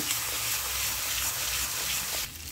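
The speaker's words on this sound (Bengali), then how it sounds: "অল্প একটু জল দিয়ে দিলাম, মিডিয়াম ফ্লেমে মশলাটা কষিয়ে নিচ্ছি।" Masala for a village-style potol paneer fries with a little water over a medium flame, giving a steady close hiss and sizzle that eases slightly near the end.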